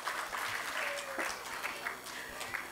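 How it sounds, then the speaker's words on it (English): An audience claps after a children's stage performance, moderate steady applause heard somewhat distant and faint, with a voice briefly audible over it. "Give her a big round of applause, please."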